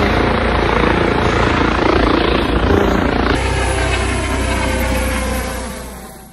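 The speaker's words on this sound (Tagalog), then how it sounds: "Nakita nyo ba yung helicopter? Private helicopter niya." Overhead, a private helicopter passes above a sightseeing spot in Malaysia, a loud, steady rotor roar that holds for several seconds, then thins and fades away near the end.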